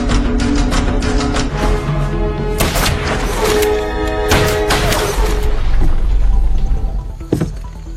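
Gunshots in an old gangster film, several sharp loud cracks in quick succession over a tense action soundtrack, ending in an abrupt hit.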